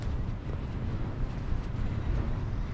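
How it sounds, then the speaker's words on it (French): Wind blowing hard at a wind farm high on an exposed hilltop, a steady broadband rush and buffeting roar against the microphone that holds constant throughout with no voices. "je ne sais pas si vous entendez le souffle du vent que ça fait, c'est assez impressionnant"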